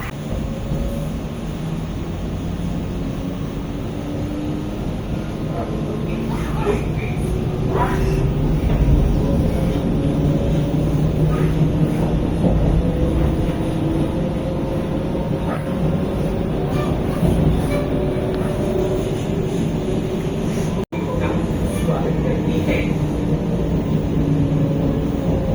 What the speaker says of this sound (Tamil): ஸோ வண்டி இப்போ கரெக்டாக கிளம்பிடுச்சு